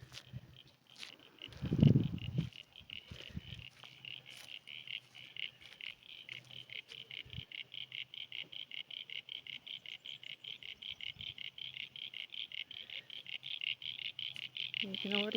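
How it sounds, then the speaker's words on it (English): Crickets chirp at night beside a river with platypus along the Great Alpine Road, a steady, fast-pulsing chorus that runs throughout after a brief low thump near the start. "You can already hear the crickets."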